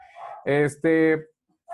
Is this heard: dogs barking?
yes